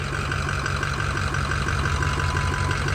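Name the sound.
budget diesel mud truck engine idling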